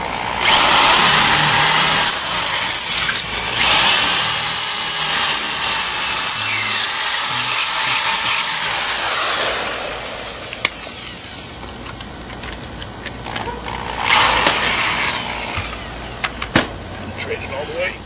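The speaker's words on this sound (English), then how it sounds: "The next bit I'm going to use is a concrete drill bit to go through the concrete behind it" A power drill with a concrete bit bores into concrete behind mobile home skirting. The whine is loud and close and grinds on, eases off midway and then surges again, with brief clicks and knocks around it.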